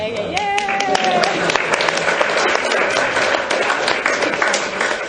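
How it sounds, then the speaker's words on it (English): A small audience at a spiritual talk claps steadily throughout, and a voice talks over the applause near the start. "Melissa and Shadri, they can clap"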